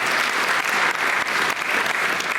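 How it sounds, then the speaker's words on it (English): A crowd at an alumni celebration show gives sustained, full applause for its oldest alumni member, a member of the original 1976 class. The clapping stays loud and even throughout. "a round of applause for that"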